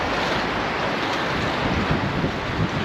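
River water runs steadily beside a secret riverside campsite in light drizzle, a dense, unbroken rushing wash that stays loud and even throughout with no voices.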